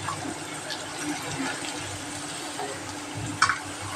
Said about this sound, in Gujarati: ગાજર નાખી દઉં